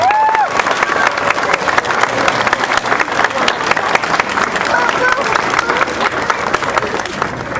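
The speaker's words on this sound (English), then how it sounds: "I think you should give Mark and everybody else who was involved in getting that done a round of applause." An audience at a town bill signing claps in a steady, dense round of applause that fills the room from start to finish, with voices and a brief tonal sound near the start.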